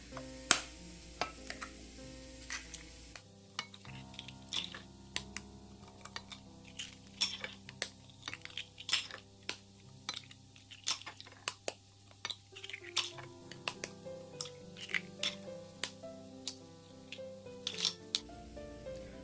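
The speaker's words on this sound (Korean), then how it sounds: "계란 8개 풀어주겠습니다" Eight eggs are beaten in a bowl for home-style gimbap, giving a long run of quick, light, uneven clinks of utensil against dish, close and fairly quiet, with brief pauses along the way.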